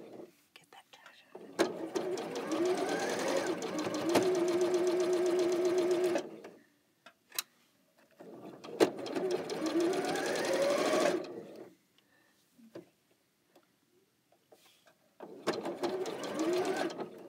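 A sewing machine stitches a quilt sampler block in three bursts of steady, close mechanical whirring separated by quiet pauses, with a voice talking softly in between.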